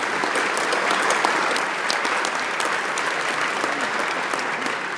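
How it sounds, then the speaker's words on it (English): Conference audience at an awards ceremony applauding a winner, a dense, steady wash of clapping from many hands, moderately loud and unbroken for the full few seconds. "give a big round of applause to NTT-WEST"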